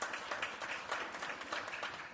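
An audience applauds at a school governing board meeting, with dense, continuous clapping from a room full of people and no pauses.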